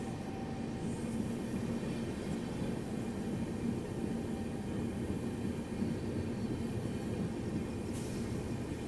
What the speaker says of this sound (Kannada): ಟನಲ್ ಒಳಗಿಂದ ಟ್ರೈನ್ ಹೊರಗೆ ಬರೋದು ಎಷ್ಟು ಚಂದ ಕಾಣದ ನೋಡ್ರಿ.